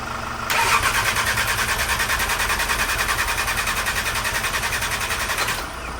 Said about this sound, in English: Don't know if you heard that, but it cranked over.